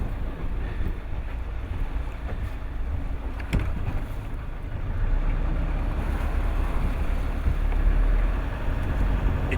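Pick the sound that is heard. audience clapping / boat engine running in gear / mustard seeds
boat engine running in gear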